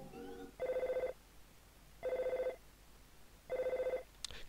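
A telephone rings in the Earthbound video game: three evenly spaced electronic ring bursts, each about half a second long, sound clearly and alone against a quiet background.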